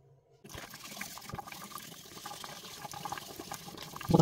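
A Mercedes Audio 20 head unit display for the W164, W211 and W203 is wet-sanded with P800 sandpaper under running water, giving a continuous splashing, scrubbing wash that builds slightly after a silent start.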